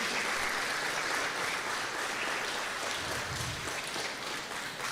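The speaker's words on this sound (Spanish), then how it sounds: "Dé un fuerte aplauso a nuestro Dios." A church congregation applauds in a sustained, dense roar of clapping that fills the room evenly for several seconds without pause.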